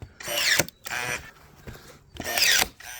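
Power tool cutting through wooden pallet boards in three loud bursts of whining, rasping cutting, with short quiet gaps between them.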